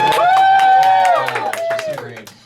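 A stand-up comedy audience answers with a long, loud whoop and scattered clapping that trails off over a couple of seconds.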